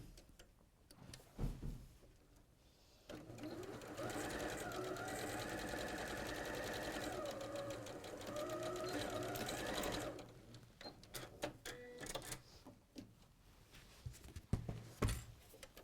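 A domestic sewing machine runs steadily for several seconds stitching along a drawn diagonal line on quilt pieces, a close mechanical whir framed by handling clicks and fabric rustle before and after.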